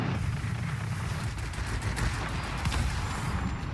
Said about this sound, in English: let's see if I can light him on fire again